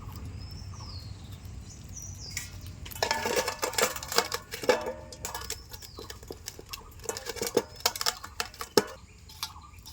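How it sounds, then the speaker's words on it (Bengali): Gutum fish being cut for a curry with salt added beforehand, giving a run of close, irregular knocking and scraping clatters against a surface, with no talking. "এখন আমি মাছগুলিকে কেটে নিচ্ছি।"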